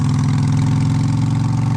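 A motorcycle fitted with Vance & Hines Cruisers exhaust pipes idles close by, giving a loud, steady, low throbbing burble that stays even throughout.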